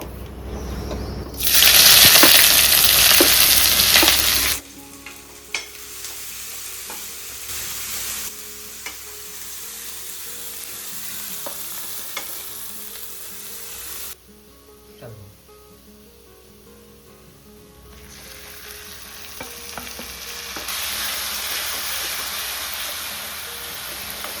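Macaroni sizzles and fries in a pan with tomato, onion and masala while being stirred: a loud hiss bursts in early, settles to a quieter simmer with clinks, then swells again near the end, with faint voices in places.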